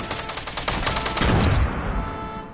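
In a Fortnite match, a fast string of sharp gunshots rattles off in quick succession, loud and close, then a heavier blast rumbles before the firing fades out.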